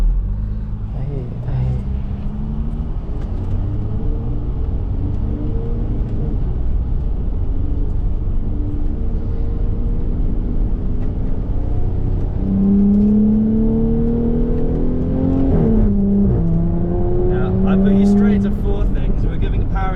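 Car engine from the Forza racing game, a sustained drone whose pitch climbs steadily and surges in the final seconds as the car accelerates, with voices talking over it throughout.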